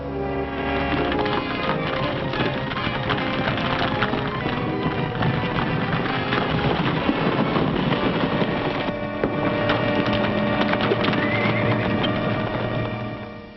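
Horses' hooves drum at a gallop amid a dense, busy western film soundtrack of music and commotion, loud and continuous throughout.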